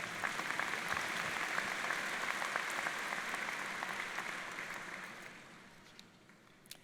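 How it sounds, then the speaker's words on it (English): Crowd applause at a university commencement ceremony, a dense wash of clapping heard from a distance that slowly dies away. "round of applause"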